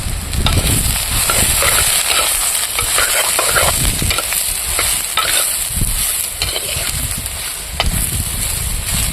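Ridge gourd cooking in a pan, a loud, continuous sizzle with scraping stirring strokes and occasional clinks of the utensil against the pan, close up with no talking.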